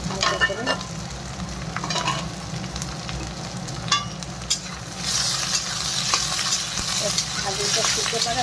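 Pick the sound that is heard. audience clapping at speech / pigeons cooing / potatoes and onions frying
potatoes and onions frying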